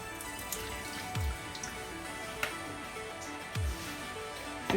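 Soaked broccoli pieces drained of their water, giving a quiet, steady trickle with scattered drips and splashes in a kitchen setting, low and close with no talking.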